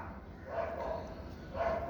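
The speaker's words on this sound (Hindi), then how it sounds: "जब भी मैं बोलना चालू करता हूँ पीछे से कुत्तों का बैकग्राउंड म्यूज़िक आता है" Dogs bark faintly in the background outdoors in Delhi, two short bursts of distant barking separated by a pause, no talk.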